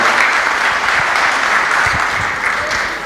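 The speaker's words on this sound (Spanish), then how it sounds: "Un aplauso para el Padre" Audience applause for a priest at a church talk, a loud continuous patter of many hands clapping together, filling the whole moment without any voices.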